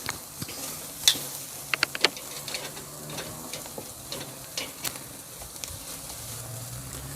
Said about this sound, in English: So we like to sear them first because it gets it up to about 100 degrees to get a nice crisp on the edge of those